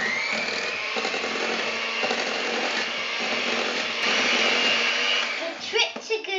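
An electric mixer beats vanilla cupcake icing with a steady, loud whirring drone that runs without a break. Near the end the whir gives way to a few rattling knocks.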